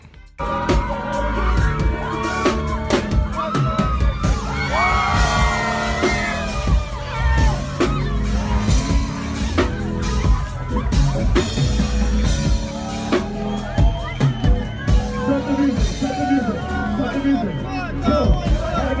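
Loud concert crowd yelling and whooping as a rapper crowd-surfs, with music and bursts of shouting throughout, dense and close.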